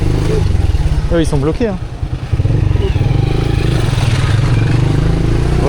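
A motorcycle rumbles steadily in close-up while riding through traffic in Côte d'Ivoire, with another engine revving briefly partway through and people talking over the constant engine drone.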